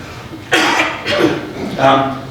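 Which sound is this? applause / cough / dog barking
cough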